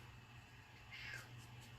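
A pet cat named Loki meows somewhere off in the room, one faint cry rising over a steady low household hum.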